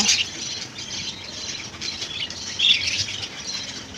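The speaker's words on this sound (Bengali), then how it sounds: "পাখি কিচিরমিচির করছে" Birds squawk and chirp in short, bright bursts on a hot, windy morning near almond trees, calling repeatedly over a soft, steady background hiss.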